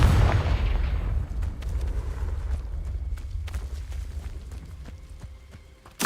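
A Confringo blasting spell detonates in Hogwarts Legacy, a loud close explosion that rumbles and decays over about a second, followed by scattered thuds and footsteps in the game.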